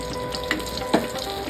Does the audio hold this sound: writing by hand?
no